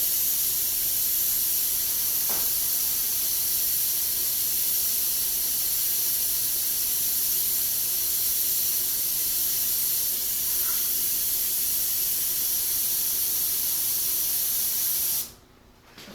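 An airbrush sprays a fine paint highlight onto the underside of a painted metal rivet, a steady close hiss running unbroken for about fifteen seconds before cutting off abruptly.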